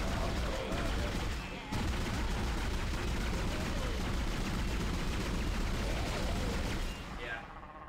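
Sustained gunfire from weapons in the sci-fi horror video game Dead Space, dense and continuous throughout, dipping briefly twice, with talk running alongside.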